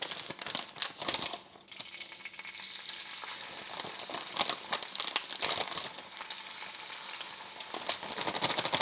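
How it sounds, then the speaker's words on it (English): Peppers and onions hit a heated frying pan and sauté in oil for a frittata, a crackling sizzle with crinkly bursts and stirring scrapes, close and continuous without talk. "we're going to add the peppers and onions in here"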